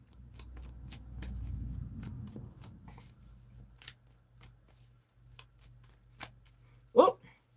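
A deck of tarot cards is shuffled by hand close up, a soft riffling patter at first, then scattered light taps and one sharp card flick near the end in a quiet room.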